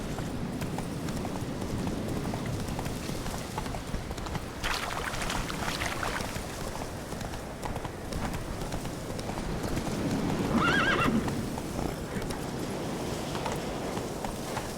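A horse gallops in The Witcher 3: Wild Hunt video game, its loud, continuous clip-clop hoofbeats running the whole time, with a brief whooshing swell partway through.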